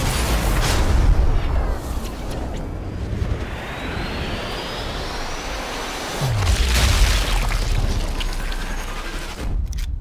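Sniper rifle shot in Sniper Elite 4 co-op play, a heavy booming report near the start, with a second deep boom around the middle and a long rolling rumble between the two.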